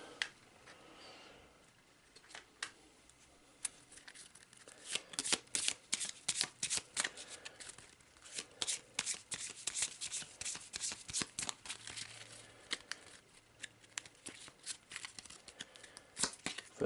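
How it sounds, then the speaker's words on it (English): Encounter cards for a board game shuffled and drawn by hand, quiet at first, then a long run of crisp riffling snaps and slides, close and dry, no talk. "now we've got to draw 2 encounter cards"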